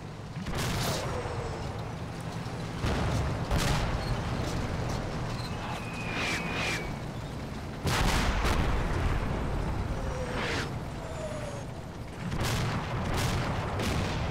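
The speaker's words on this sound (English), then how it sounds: "Oh, artillery. Always the good same old artillery." Artillery fire in the WWII Normandy wargame Combat Mission: Battle for Normandy, repeated heavy booms and sharp blasts at irregular intervals over a dense rumbling battle din, with faint whistles of incoming shells.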